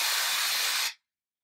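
A single short hiss of hairspray, about one second long, close and loud, cutting off abruptly into silence.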